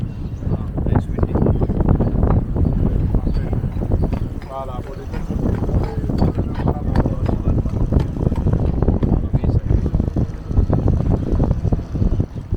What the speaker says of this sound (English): Nice windy.